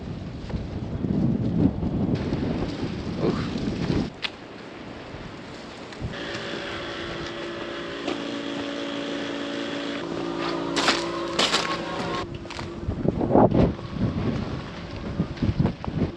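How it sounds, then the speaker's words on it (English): Strong wind gusts roar and buffet across a farm in cold weather, loud rushing bursts with some tonal whistling and rattling, alone without voices. "Goodness, that wind is ripping today."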